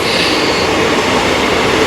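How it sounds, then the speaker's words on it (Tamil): A train rumbles past close by, a steady loud roar of wheels on rails with faint metallic squeals, with no voices. "பாருங்க அந்த பக்கம் ட்ரெயின் போயின்னு"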